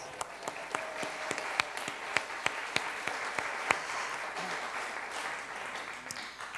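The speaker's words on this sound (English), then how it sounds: "You can applaud." Scattered hand claps from an audience at a solstice gathering, fairly faint and spread out, with distinct individual claps over a soft background murmur.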